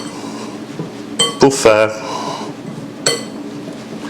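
Utensil clinking against a bowl while mixing dry ingredients including cocoa-like powdered coffee for keto gluten-free sugar-free dark chocolate biscuits; a few sharp clinks cluster together, then one more follows, beneath steady close talk.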